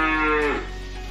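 A Limousin Cross heifer calf gives a single loud, close moo that rises and then tapers off, heard over a steady low background hum at a cattle trader's yard in Kediri, East Java.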